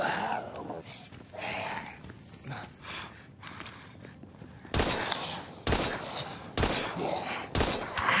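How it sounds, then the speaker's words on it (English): Gunfire in the horror video game Daymare 1998 comes as several sharp, loud shots spaced about a second apart in the latter half, after a stretch of quieter game ambience with a voice speaking. "my bullet ricocheted or something, because I missed that one"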